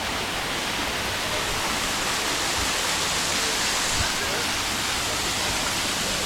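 Steady, loud roar of water pouring down the Sticky Waterfalls in Chiang Mai, Thailand, close by and continuous throughout with broadband rushing spray, a few faint bumps and possible voices buried under the flow.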